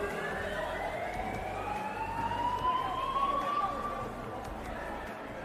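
An alarm wails with long sliding tones through a busy indoor swimming pool hall at a championship meet, sustained under constant crowd noise and echo.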